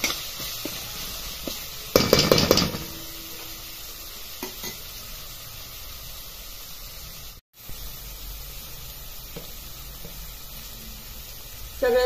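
Grated fresh coconut sautéed in a pan for a pea curry, a steady close sizzle with a louder burst of scraping and stirring early on, then a quieter sustained frying hiss.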